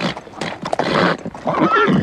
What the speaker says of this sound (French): Joli cheval.